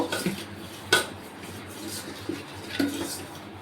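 A spoon scrapes and clinks against a metal pot a few times while food is stirred with ghee for hilsa biryani, sharp knocks spaced out over quiet.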